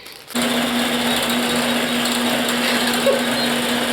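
A quilting machine running with Quilt Path, loaded with yellow embroidery thread, starts up after a moment and then runs in a steady, loud mechanical whir with a constant hum, no talking.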